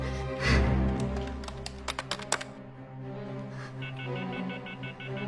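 A quick series of short dialing beeps plays, one tone after another, over a low steady hum, followed by a softer tonal buzz.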